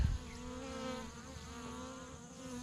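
Honey bees swarm around a coffee can feeder in a backyard, producing a continuous, fairly soft droning buzz with several wings humming together at close range and no voices.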